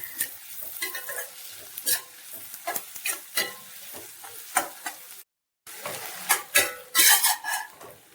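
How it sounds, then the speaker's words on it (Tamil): Onions sautéing with salt in a pan with a sizzle underneath, and a utensil stirring and scraping in uneven clatters. One brief silent gap breaks the sound near the end. "கொஞ்சமா உப்பு போட்டு வெங்காயத்தை வதக்கிறோம்"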